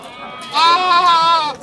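Sheep bleat loudly and close by at a livestock market, one drawn-out wavering call lasting over a second.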